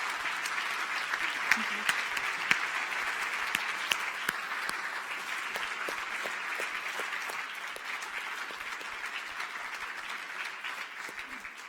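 Steady, full applause from the audience at a FameLab UK science-communication final, an even wash of clapping with occasional sharper claps, and a brief spoken thanks near the start.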